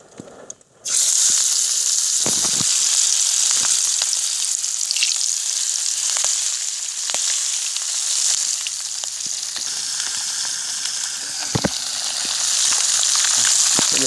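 Small fish frying in hot oil at a village, a loud, steady crackling sizzle that starts abruptly and runs on with occasional sharp pops and spatters, close by and uninterrupted by talk.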